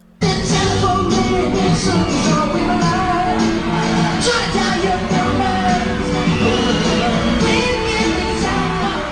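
Concert crowd at a show in Oakland, California, during an extended performance, cheering and yelling loudly and continuously with music underneath.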